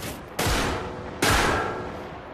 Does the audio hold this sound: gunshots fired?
yes